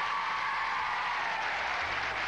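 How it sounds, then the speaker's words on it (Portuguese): A television studio audience on the Silvio Santos show claps steadily, a dense, uniform patter of applause filling the whole moment with no voices standing out. "mais palmas, mais"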